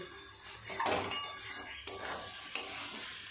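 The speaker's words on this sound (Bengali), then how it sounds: "বেশ কিছুটা সময় নিয়ে সমস্ত কিছু এইভাবে কষিয়ে নিয়েছি এই দেখুন কেমন মাখা মাখা হচ্ছে" Chana paneer masala stirred and sautéed in a pan, a spoon scraping and clinking against the metal in several strokes over a soft steady sizzle, close and moderately loud with no talking.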